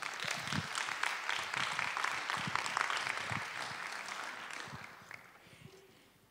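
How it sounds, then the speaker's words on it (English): Conference audience applauding a keynote speaker at ZeroCon17, steady dense clapping from a large crowd that fills the room for several seconds, then fades away toward the end. "a big round of applause, please"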